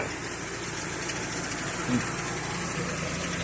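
A Mitsubishi car's engine idles in a continuous, even mechanical drone with a faint high whine, steady and close throughout.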